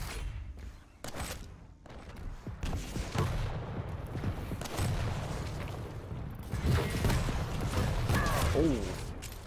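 Rocket launcher fire in a competitive Quake match, with sharp blasts and explosions among weapon clatter, while a commentator talks over the action.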